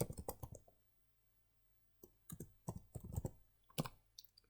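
Someone types on a computer keyboard, entering text into a table, with a quick burst of clicks, a pause, then more scattered keystrokes, close and fairly quiet.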